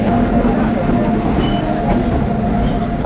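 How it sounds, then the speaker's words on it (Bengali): Paharia Express train pulling into a station, a loud continuous rumble and rolling rail noise with a faint squeal, close and steady for a few seconds, with station voices underneath. "চলে এসছে আমাদের ট্রেন পাহাড়িয়া এক্সপ্রেস।"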